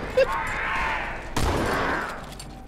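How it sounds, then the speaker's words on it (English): Rocket weapon firing in the Halo 2 campaign: a whooshing launch followed by a heavy blast partway through, with game ambience filling the rest. "I can shoot rockets through it."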